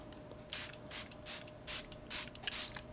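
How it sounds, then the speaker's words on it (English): Several short bursts of a fine makeup setting spray, sprayed onto a face, hiss in quick succession, close by, separated by brief pauses over a faint background hum. "I'm just going to go ahead and spray my face."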